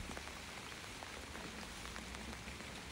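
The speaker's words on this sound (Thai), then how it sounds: "ฝนตกตั้งแต่เมื่อคืนละ" Steady rain that has fallen since the night before patters evenly on a surface, a dense, soft continuous hiss with scattered drops and no voices.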